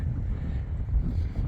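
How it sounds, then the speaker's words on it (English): Wind buffets a microphone on a cloudy mountain top in the Presidential Range, a steady low rumbling roar close up with no other sounds. "A little windy up here."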